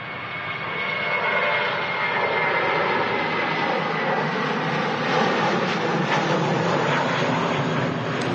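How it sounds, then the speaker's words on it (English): A Saudia Boeing 787 Dreamliner arriving at Manchester Airport from Jeddah gives a loud, steady broadband jet roar that swells early and holds throughout with no talk. "The Saudi Dreamliner coming in from Jeddah today."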